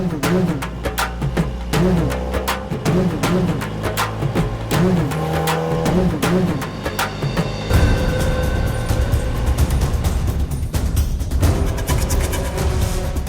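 A car drives off in a Tamil film scene, its engine revving and pulling away over a loud, steady background score, with no clear talk.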